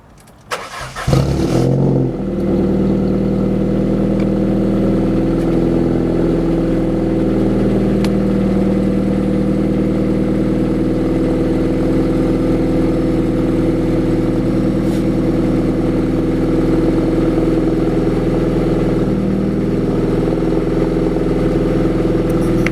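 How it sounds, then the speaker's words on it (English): Ford Fiesta with a back box delete exhaust, cold-started with a brief cranking burst, then settling into a loud, steady, deep idle rumble that continues unbroken for about twenty seconds. "A nice little cold start for you boys."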